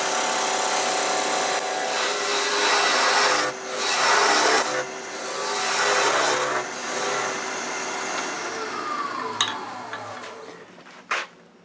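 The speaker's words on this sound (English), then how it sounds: "you're going to hear just a little bit of chatter because of the air we're turning" Wood spins on a lathe as a turning tool cuts the workpiece, giving a steady rough scraping hiss with slight chatter and swelling strokes, close and continuous, ending with a couple of sharp knocks.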